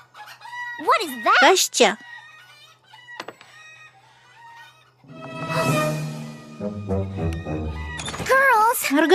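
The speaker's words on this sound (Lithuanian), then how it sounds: "tavo vištos įsilakstė" Cartoon chickens cluck and squawk in short bursts near the start and again at the end, with a rooster-like crow and voices talking in between.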